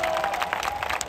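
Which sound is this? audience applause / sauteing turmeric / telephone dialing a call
audience applause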